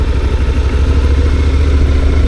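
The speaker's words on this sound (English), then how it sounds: "the revs go up a little bit" A motorcycle engine runs loud and close at a low idle, lifting slightly as a small amount of throttle is added while the bike creeps along in the friction zone at walking pace.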